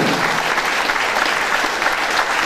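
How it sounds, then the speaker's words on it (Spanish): Steady applause from an audience at a wheelchair donation ceremony, dense and continuous throughout at fairly loud level with no break. "el aplauso nada más a esa parte sensible también que está ayudando"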